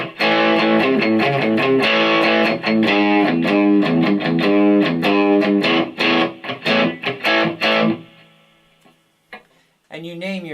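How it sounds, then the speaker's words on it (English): Electric guitar through a Boss GT-1000 processor set to tube screamer and reverb plays a loud, driven run of picked notes and chords, then stops and lets the reverb tail ring out before a last brief strum. "This is a tube screamer and reverb."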